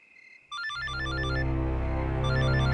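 A phone ringtone starts after a brief faint tone and keeps playing as a loud, steady electronic melody with a repeating pattern.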